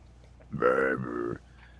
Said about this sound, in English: Did you just burp in the mic?